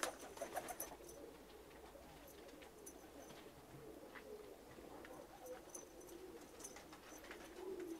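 Several pigeons of assorted fancy breeds, including marked and carnation-crested birds, coo repeatedly in soft low rolling calls, with occasional faint chirps and rustling in the background.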